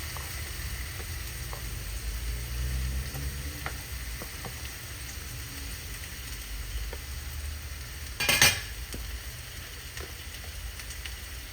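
Garlic frying in a pan gives a low, steady sizzle throughout, with faint scattered pops and one louder clatter near the end, as if from stirring.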